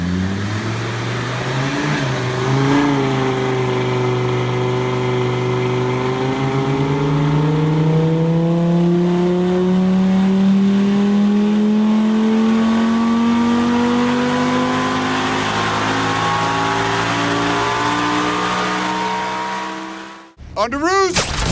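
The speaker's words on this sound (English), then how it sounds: "to be out on a track with a bunch of Audis, driving fast" Audi cars driven fast on a race track, one engine loud and close, revving and climbing steadily through the gears for about twenty seconds before cutting off abruptly.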